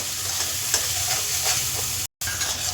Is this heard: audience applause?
no